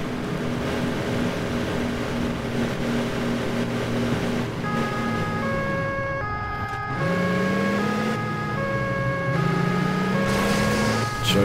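An electronic siren in the video game Alarm für Cobra 11: Das Syndikat wails in alternating two-tone cycles over a constant engine rumble, loud and continuous, with no talking.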